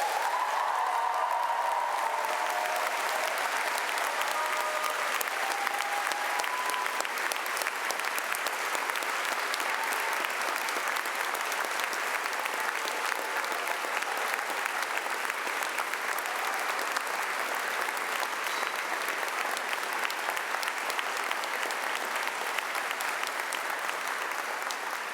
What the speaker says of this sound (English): with a great round of applause and as much noise as you can muster